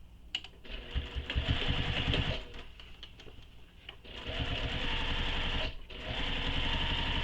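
A sewing machine hums close and steady as it stitches a tote bag seam, running in two long bursts with a brief pause and a short stop between them.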